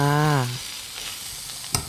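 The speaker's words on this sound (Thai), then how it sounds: "ผัดเผ็ดเนื้อใส่หน่อไม้จ้า" Spicy beef with bamboo shoots and chilies is stir-fried, sizzling steadily up close with a quick scrape of the utensil near the end, just after a brief voice at the start.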